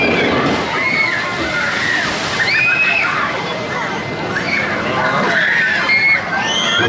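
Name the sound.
water ride drop splashing at LEGOLAND Windsor Pirate Shores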